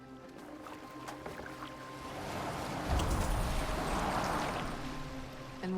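Boat moving through water in Assassin's Creed Valhalla, with a soft wash of water that swells into a louder surging splash midway and then fades, heard alone without talk.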